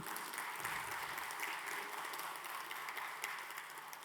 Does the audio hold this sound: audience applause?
yes